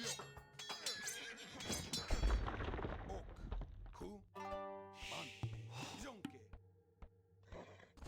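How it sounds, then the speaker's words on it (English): Horses neigh and whinny repeatedly in an Age of Empires battle, the loud whinnies rising over clanging combat, cannon fire and hoofbeats, with someone talking over the game sounds. "Get some more horses over here"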